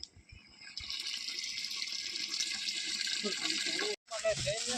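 Water runs steadily from a tap with a continuous hiss and splash, briefly cutting off before resuming; faint voices murmur in the background.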